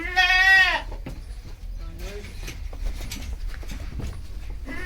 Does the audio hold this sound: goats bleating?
yes